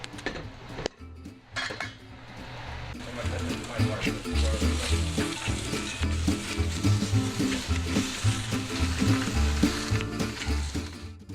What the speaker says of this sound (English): I'm gonna continue with browning the rest of the meat